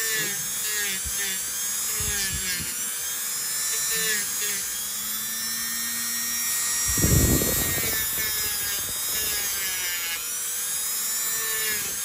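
A Dremel rotary tool grinds down very thick toenails during debridement, a steady high-pitched whine running throughout with a louder, coarser burst of grinding near the middle, with some background speech.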